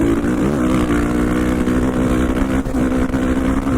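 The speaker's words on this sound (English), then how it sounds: "I'm out here doing a little testing on the KTM 450." A KTM 450 dirt bike engine on an Idaho practice ride, droning loud and close at a steady high rev with slight pitch wobble throughout.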